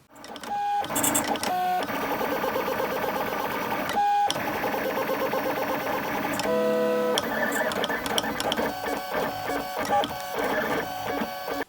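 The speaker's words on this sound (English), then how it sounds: "So let's print those out, and I can show you what they look like in real life." A 3D printer prints small plastic hooks, its stepper motors whining and buzzing in shifting tones with quick stops and starts, close and steady throughout.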